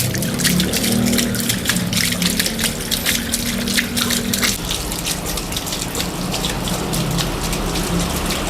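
Water gushes steadily out of a gourami fish pond's drain pipe, a loud continuous rushing and splashing that runs the whole time.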